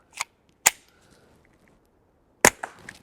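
Taurus TX22 pistol fired with quiet .22 rounds: three sharp, short cracks, the second and third followed by brief impact and ringing tails, spaced apart with near silence between, fairly close and moderately loud.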